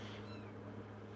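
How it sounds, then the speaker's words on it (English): A house cat gives a short meow in the background of a quiet room, faint and brief over a steady low hum. "that's my cat in the background"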